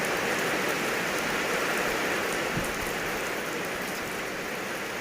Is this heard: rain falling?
yes